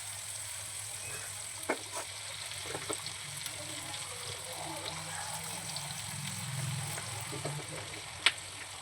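Chole spices and aromatics frying in a pan, a soft continuous sizzle close by with occasional light stirring clicks and a sharper tap near the end.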